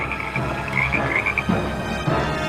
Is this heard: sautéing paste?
no